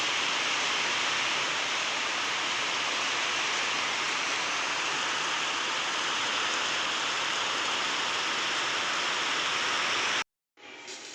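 Heavy rain pours steadily in a dense, loud hiss, gusting wind folded into the roar, then cuts off abruptly near the end.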